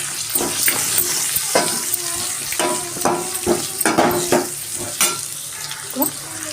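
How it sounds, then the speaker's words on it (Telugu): Chopped onions with turmeric fry in a pan, a constant loud sizzle broken by the repeated scrape and clink of a spoon stirring through them, with no talking. "బాగా ఫ్రై కావాలి, ఫ్రై అయితేనే బాగా టేస్ట్గా ఉంటుంది."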